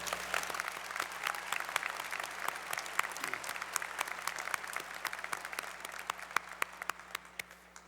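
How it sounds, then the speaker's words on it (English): Steady applause from a large crowd at a university commencement ceremony, dense clapping filling the hall for the full stretch, slowly thinning toward the end. "let's give them also one more round of applause"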